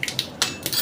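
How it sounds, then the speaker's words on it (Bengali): Asafoetida crackles in hot oil in a kadai over a low gas flame, with a few sharp, close spits and ticks spaced across a brief moment. "হিংটা চটর পটর করছে।"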